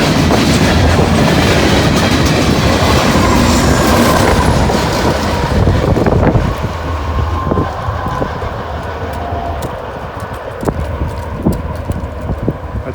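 Train rolling past on a railroad close by, a loud rumbling roar with rhythmic clacking of wheels over the rail joints that gradually fades as the cars pull away, with no one speaking.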